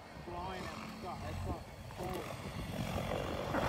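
An XLpower Protos 700E electric RC helicopter flies nearby at around 1350 RPM, giving a steady rotor whine and whoosh throughout, with people talking over it.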